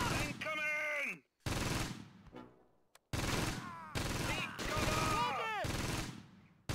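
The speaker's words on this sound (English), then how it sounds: "We have the MG-42s working." MG-42 machine guns firing in a World War II style video game, bursts of rapid fire broken by short gaps, loud and close, with game voices and shouting mixed over the shooting.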